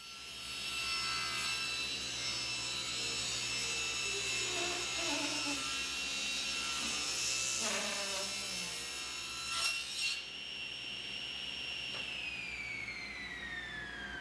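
A saw blade cuts through a board for a bookcase, giving a steady, loud whining drone that holds for most of the stretch before the pitch slides down as the cut ends and the blade winds down.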